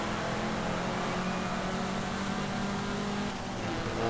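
Toyota MR2 GT engine revving steadily in Forza Horizon 5, a continuous loud mid-range engine drone held throughout with a slight surge near the end, no talk.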